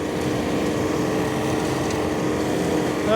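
A 46 horsepower tractor pulling a 10-foot flexwing mower through heavy fescue and small trees, giving a continuous, even drone of engine and cutting blades that is loud and steady throughout.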